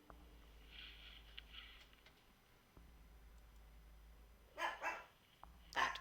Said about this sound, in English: that was Doggy.